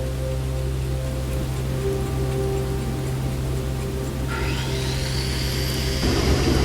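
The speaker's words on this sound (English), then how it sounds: "It's Punjab grinding that awful knife." A long knife is sharpened on a grindstone, giving a loud, continuous whirring grind, with a rising metallic whine that breaks in near the end.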